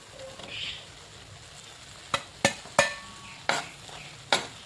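Torn dosa pieces drop into egg frying in a pan for kothu dosa: a soft background sizzle broken by five sharp clacks of a utensil against the pan, spaced irregularly.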